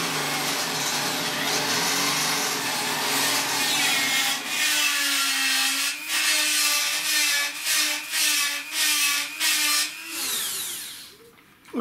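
A power drill boring a hole in a laser-cut machine part, a sustained whining motor with repeated bursts as the trigger is pulsed and the bit bites, close and loud, ending with a clatter.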